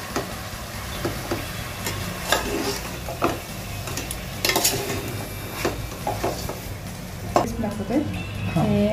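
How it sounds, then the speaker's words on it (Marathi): Chicken handi masala being stirred in a pan after turmeric and salt go in, with scraping spatula strokes and light sizzling, close and fairly busy, with a voice briefly speaking nearby. "थोडी हळद आणि थोडंसं चवीपुरतं मीठ त्यामध्ये ॲड करूया आणि परत छानसं मिक्स करून घेऊया"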